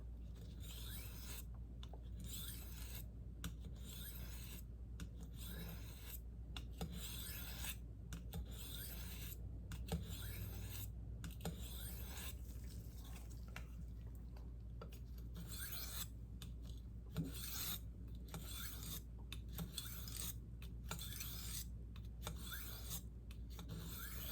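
A blade rasps back and forth across a hard Arkansas whetstone in steady strokes, quiet and close, with short pauses between passes and no talking.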